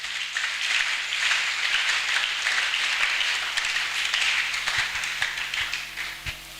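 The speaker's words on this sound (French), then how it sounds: "Acclamons d'abord pour la gloire de Dieu" A church congregation applauding for the glory of God: dense, steady clapping from many hands fills the whole stretch, fairly loud and sustained without a break, with no speech over it.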